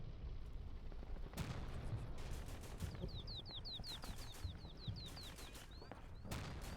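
Gunfire from the WWII strategy game Combat Mission Afrika Korps, set in 1940, with a steady background rumble of distant shots and several sharp reports at the start and end, plus a rapid series of chirping tones layered over it.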